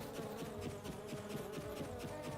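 Bees buzzing in a video game, a faint, steady swarm drone with overlapping wingbeat hums, continuous throughout with no talking.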